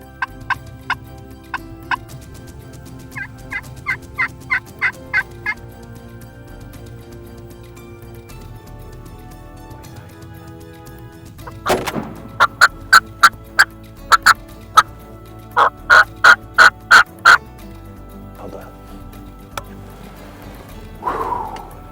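A wild turkey gobbles in repeated rapid bursts, first at a moderate distance, then louder and closer in several runs, with quiet gaps between.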